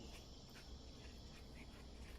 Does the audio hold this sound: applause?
no